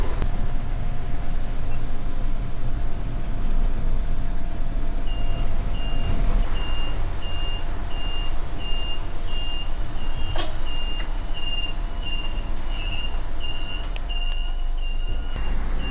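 A city bus pulls up at a stop in Taipei, its reversing beeps pulsing in a steady, evenly spaced series over heavy traffic rumble and engine noise, with a few sharper clanks partway through.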